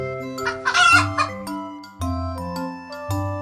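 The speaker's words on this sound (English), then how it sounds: "Chickens. Feathered friends that lay eggs and cluck their way into our hearts." Farmyard chickens clucking with a rooster crowing, clear and close, a layered run of harmonic calls over three and a half seconds with no talk.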